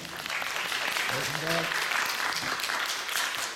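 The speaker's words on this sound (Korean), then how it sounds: "박수 한번 해주시고요" Audience applause during a lecture on speaking skills, steady, moderately faint clapping from a seated crowd with a voice briefly heard over it.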